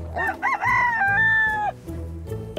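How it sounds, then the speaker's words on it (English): A rooster crows once, close and loud, a long rising-and-falling cock-a-doodle-doo heard on its own. "This is a rooster."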